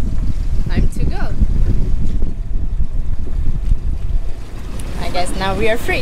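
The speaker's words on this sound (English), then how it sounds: "The wind's really strong." Strong wind buffets the microphone as a sailboat leaves its mooring past a rock and sandbank, a loud steady roar throughout with a voice speaking over it.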